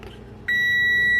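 An oven timer in a home kitchen starts a continuous, clear electronic beep partway through, sustained steadily and fairly loud after a brief quiet moment with faint background noise.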